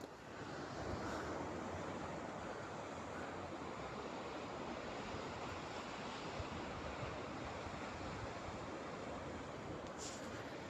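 Waves washing into Banff Harbour make a steady, dense roar that holds at an even level throughout, with wind buffeting the microphone and no voices.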